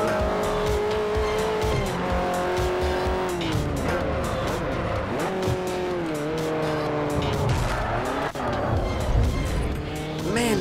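A pack of cars racing in Forza Motorsport 4, engines droning and shifting pitch steadily throughout, with tire squeal and skidding layered over the continuous loud motor roar.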